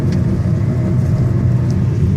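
An automatic car's engine in second gear on a steep, rain-slicked downhill mountain road, a steady low rumble held close and constant throughout with no pause.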